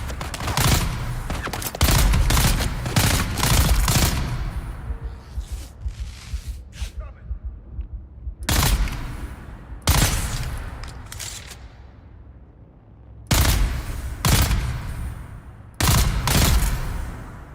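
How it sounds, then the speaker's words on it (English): Gunfire in Dune Awakening rattles in loud, rapid automatic bursts separated by short pauses, with heavy sharp reports and booming echoes, close and repeated across the stretch. "That guy's shooting me through"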